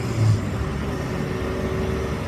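A classic SAAB's engine hums steadily from inside the cabin while it is driven gently, a continuous low drone with a faint tonal whine and no voices.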